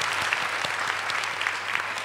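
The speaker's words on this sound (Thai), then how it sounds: "ทางนี้ขอเสียงปรบมือให้กับผู้ดำเนินรายการของเราคุณสมศักดิ์พลอยพานิชเจริญด้วยค่ะ" A seminar audience applauds the moderator on stage at an event on young agricultural entrepreneurs and technology, with brisk, dense clapping that stays even throughout.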